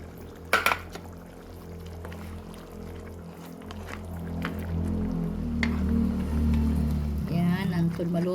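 Water pours steadily into a cooking pot of chicken afritada, a growing liquid rush after a clank of cookware, with a person talking over it.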